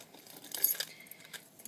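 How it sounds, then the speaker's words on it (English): A small bunch of car keys jangling and clinking briefly, close by and fairly quiet, with a few brighter metallic taps. "These are my car keys."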